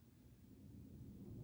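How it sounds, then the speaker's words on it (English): Thunder rumbles low and steady outside, a deep, fairly faint roll that grows a little louder as it goes on. "I'm sure you can hear that thunder. It's pretty intense."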